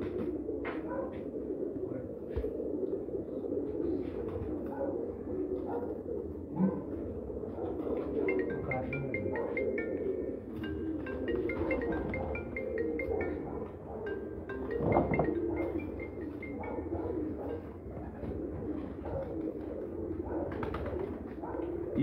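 Golden pigeons coo softly in a steady, repeated murmur, with faint bird chirps and background noise around them; no one speaks.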